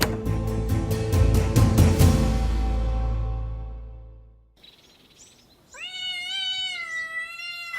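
A village cat meows several times in quick rising cries, close and fairly loud, after a loud ringing crash that fades into near silence.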